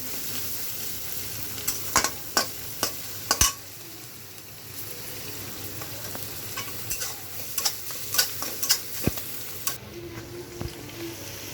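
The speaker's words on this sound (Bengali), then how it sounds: "পেঁয়াজ মরিচগুলো ভেজে নিচ্ছি।" Onions and chilies frying in a pan for a fish dish, a continuous sizzle broken by repeated sharp scrapes and clinks of a spatula stirring against the pan, with no speech.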